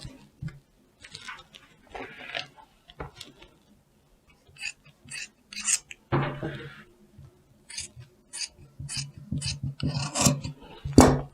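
Scissors cutting fabric pocket pieces for a mini half coat: close, crisp snipping and rasping cuts in irregular bursts with short pauses between, growing denser and louder toward the end, with no talking over them.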